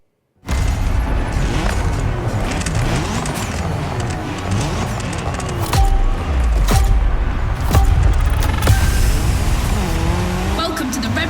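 A race car in The Crew Motorfest, in a Red Bull Speed Clash event, drives hard with a loud, continuous engine rising and falling through gear changes, and occasional tire squeal, while a voice talks over it.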